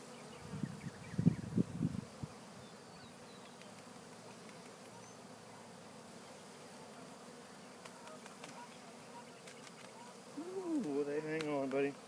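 Honey bees from a large swarm on a cedar tree hum in a soft, low buzz with a few louder passes near the start and end, and a person speaks intermittently.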